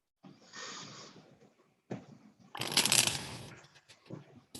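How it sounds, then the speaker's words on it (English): A deck of cards is shuffled nearby in several close, papery bursts with short pauses between them. The middle burst is the loudest and most crisp. "I don't know why I'm shuffling right now."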